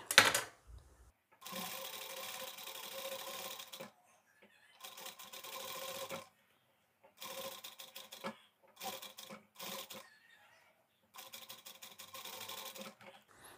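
A sewing machine runs in short bursts of rapid stitching while a Sabyasachi-style blouse is sewn with a continuous half-inch seam, several quick runs separated by pauses.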